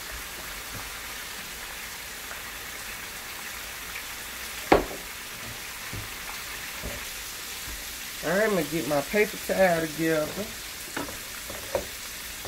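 Vegetarian fried chicken frying in hot oil, giving a steady soft sizzle beneath a nearby voice, with occasional utensil clicks.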